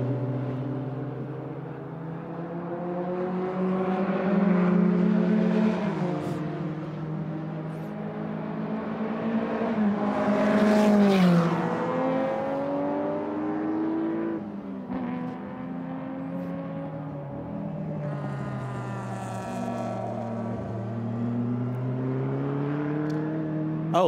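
A Maserati and a Ferrari 250 GT racing at the Hungaroring, engines rising and falling through gear changes as they pass close by, loudest near the middle, with no voices.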